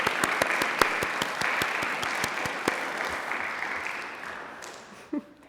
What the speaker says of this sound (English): Oh, we should definitely clap for this last one.